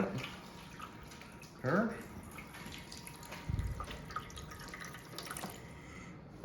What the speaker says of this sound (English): So we're going to deglaze with about 2 cups worth of this chicken broth.